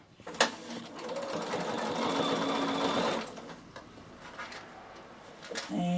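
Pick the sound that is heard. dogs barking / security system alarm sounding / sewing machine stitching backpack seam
sewing machine stitching backpack seam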